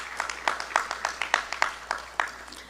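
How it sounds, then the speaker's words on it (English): An audience claps at a political party conference, a thin, spaced patter of hands around two to three claps per second, moderately near and not very dense, with no voices over it. "Give yourselves another round of applause."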